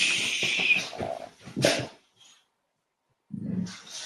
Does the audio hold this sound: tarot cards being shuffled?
no